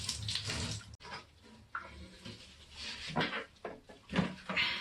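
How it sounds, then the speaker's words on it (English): Boiling water is poured into a motorcycle coolant reservoir from a Honda VFR750 and over its outside, giving close splashing gushes in uneven bursts with a sharp knock and small handling clatter. "Now I pour in boiling water, also using it to rinse the outside."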